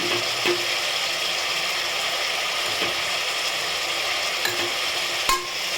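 Onions and tomatoes sauté for a prawn biryani with a constant close sizzle, while a utensil scrapes and stirs in the pan and gives occasional sharp clicks and knocks.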